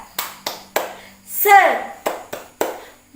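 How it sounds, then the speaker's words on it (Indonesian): A class of children performs a rhythmic spirit clap: sharp, distinct claps spaced in a steady beat, with a short burst of voices shouting in the middle, close and clear. "mari kita melaksanakan tepuk semangat"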